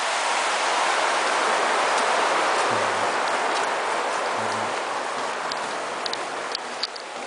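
Light rain falls steadily outdoors in a broad, even hiss that lasts throughout, with a few faint ticks and taps near the end and no voices.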